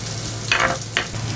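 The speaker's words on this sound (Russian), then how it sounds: "Мясо хорошо подрумянилось со всех сторон." Browned pieces of pork neck fry in a pan with a steady low sizzle, and two brief louder hisses sound as the meat is stirred or turned, close by, with no voices.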